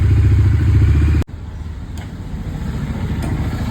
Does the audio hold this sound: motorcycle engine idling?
yes